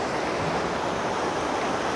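Floodwater in a swollen mountain stream gives off a steady, loud, unbroken rushing roar close by, with no voices over it.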